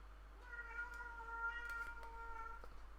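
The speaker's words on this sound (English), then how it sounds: "That's my cat, Thor." A house cat meows indoors, one long, drawn-out, fairly clear meow lasting a couple of seconds over a quiet room with a low steady hum.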